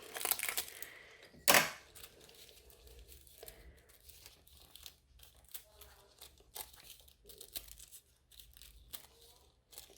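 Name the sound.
fresh piece of foil being crinkled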